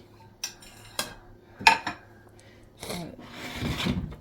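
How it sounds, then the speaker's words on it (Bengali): A cooked chicken leg piece is cut on a plate, giving several distinct clinks and scrapes of cutlery against the dish, then a longer rubbing scrape, close and fairly loud. "দেখো আমি তোমার জন্য লেগ পিসটা কাটতেছি"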